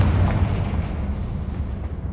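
A deep, heavy rumbling blast from the Confringo spell in Hogwarts Legacy, a loud explosion with a low boom that rolls on throughout.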